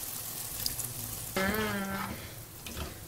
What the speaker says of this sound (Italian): Ancora tartufo, ci aggiungiamo l'acquetta dei funghi.